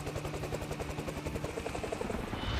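A helicopter in the video game Metal Slug Tactics: a rapid, even rotor chop throbbing steadily, moderately loud and continuous throughout.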